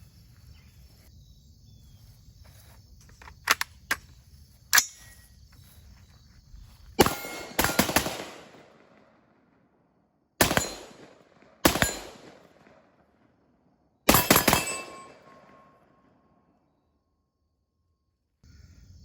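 A Geissele Super Duty AR patrol rifle fires at an outdoor range: a few sharp, separate shots, then several louder reports spaced a couple of seconds apart, each ringing out briefly against quiet insect-like background.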